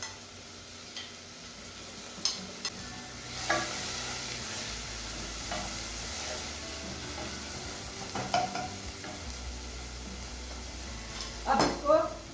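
Tomatoes and green chillies fry in a pan for desi-style noodles, a soft steady sizzle running throughout with occasional spoon scrapes and clinks, and a voice talking faintly now and then.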